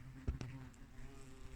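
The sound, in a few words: hornet buzzing near its nest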